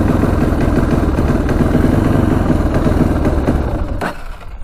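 A street-legal dirt bike engine revs hard and steadily near the microphone, holding a loud, buzzing high-rpm drone for several seconds before cutting off abruptly near the end.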